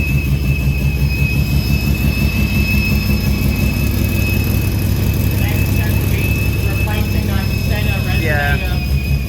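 A loud bridgeport-ported Mazda RX-7 rotary engine with an exhaust leak drones steadily with a low exhaust rumble and a high whine, while voices speak over it.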